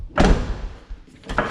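A car door thuds shut with a solid slam, followed by a brief quieter clunk and a second door sound near the end.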